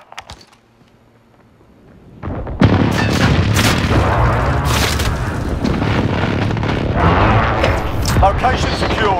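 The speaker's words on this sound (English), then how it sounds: "Enemy precision airstrike" Precision airstrike explosions in Modern Warfare's Hardpoint mode on Suldal Harbor: after a quiet start, a heavy boom erupts and rolling blasts with gunfire continue loudly, while radio voices speak over the barrage.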